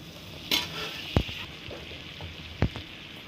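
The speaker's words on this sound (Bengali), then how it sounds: "ওখানে আমি গোবিন্দভোগ চালটা ভেজে নিচ্ছি" Gobindobhog rice frying in butter in a hot kadai: a faint, even sizzle with a few distinct knocks of a utensil against the pan, close and without talking.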